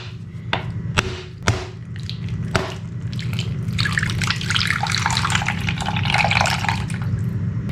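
A coconut cracked open for puttu preparation: a few sharp knocks near the start, followed by a steady trickling pour of coconut water into a container, close and clear.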